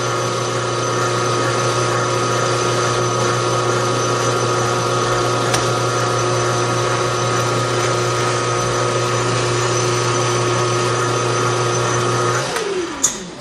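A metal lathe cutting a shotgun bead sight makes a steady, loud motor hum and whine with a constant tone for most of the clip, then winds down near the end with a brief clunk.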